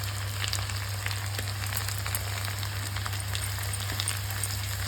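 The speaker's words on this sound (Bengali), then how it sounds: "আদাটা একটু তেলের মধ্যে ভাজা হবে।" Grated ginger frying in hot oil with spices, a steady close sizzle and crackle that holds evenly throughout, with a constant low hum beneath and no talking.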